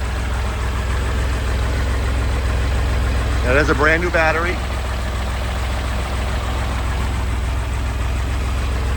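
A 1964 Chevrolet Corvair Monza convertible with the 110 engine idles smoothly and steadily throughout, a continuous low hum, while a person talks over it briefly midway.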